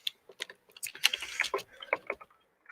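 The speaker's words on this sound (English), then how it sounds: "I'm still typing out the tweet." Typing on a computer keyboard, a quick irregular run of clicking keystrokes with brief pauses between bursts, close and clear with no voices.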